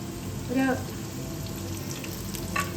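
Thinly sliced cabbage fries in a pan for noodles with a steady, moderately loud sizzle, broken by two brief clinks of a utensil against the pan.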